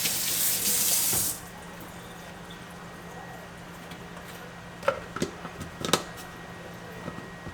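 A Kool-Aid container rinsed under tap water, a loud rush of running water for about a second that then cuts off, followed by a few faint clinks and knocks in a quiet room.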